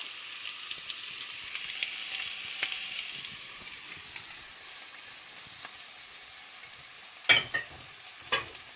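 Carrots, courgettes and garlic softening in a pan over medium heat, a soft continuous sizzle with a few sharp scraping stirs near the end.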